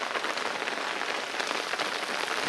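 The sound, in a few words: heavy rain falling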